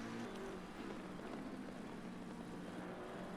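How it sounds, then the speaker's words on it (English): A steady, continuous race car engine drone from Assetto Corsa Competizione at Monza, a rough, droning tone, holding level throughout with no pauses or voices; the car sounds unwell. "that car doesn't sound well."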